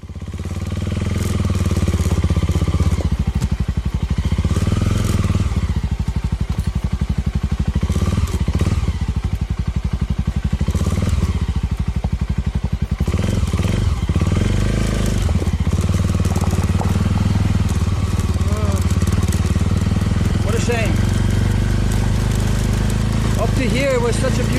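A motorcycle being ridden along a road in Sulawesi, Indonesia, with a steady engine drone and rumbling wind throughout, plus occasional clattering bumps, and a rider's voice talking over it at times.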